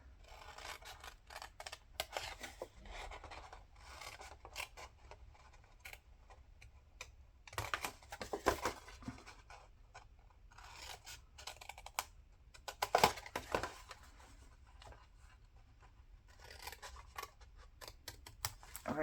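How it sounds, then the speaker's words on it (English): Scissors snip pieces off paper in a crafting session, a series of short, close, irregular cuts with quiet handling noises between them and no talking. "I will be cutting these pieces off."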